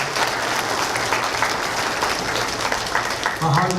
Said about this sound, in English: If you give him a big round of applause